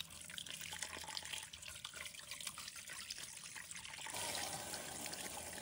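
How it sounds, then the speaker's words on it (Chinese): A sea fish being rinsed under a running kitchen tap, a steady close splash of flowing water with small shifts as the fish is turned, growing slightly brighter and fuller near the end. "准备一条海鱼，用流动水把表面的粘液清洗干净。"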